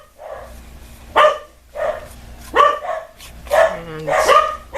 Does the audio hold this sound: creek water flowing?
no